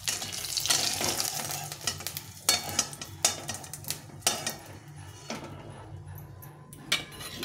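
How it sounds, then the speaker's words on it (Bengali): Duck eggs fry in oil in a pan, a close, steady sizzle broken by repeated sharp scraping clinks of a utensil against the pan at an uneven rhythm. "সবগুলো ডিম একটু হালকা করে ভেজে নিলাম"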